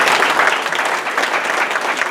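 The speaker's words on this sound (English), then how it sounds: "you can give them a round of applause" Audience round of applause at a school business event, a brief, dense, even burst of clapping from many hands with no talk over it.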